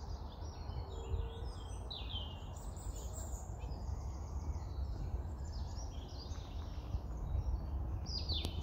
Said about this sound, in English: you could hear the bird singing